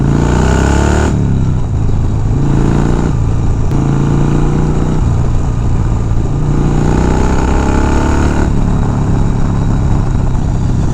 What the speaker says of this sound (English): it just sounds like a classic Harley-Davidson.